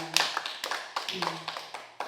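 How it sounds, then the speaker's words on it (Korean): A church congregation gives rhythmic praise clapping, a steady beat of claps at a moderate distance with voices mixed in underneath. "우리 하나님께 영광의 박수 먼저 올려드립니다"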